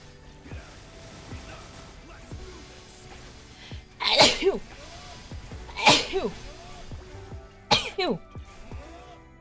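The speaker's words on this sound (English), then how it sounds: "that was like 15 sneezes in one" A person indoors lets out a quick series of sneezes, three sharp loud bursts spaced a couple of seconds apart, with quieter breathing and small vocal sounds between them.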